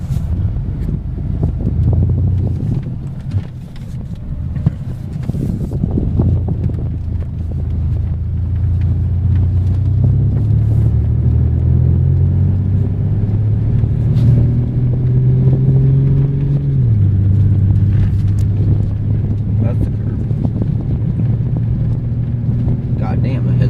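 A 2003 GMC Sonoma pickup truck drives along with a low engine drone and road rumble heard from inside the cab, its pitch climbing gradually, mixed with wind buffeting and someone speaking at times.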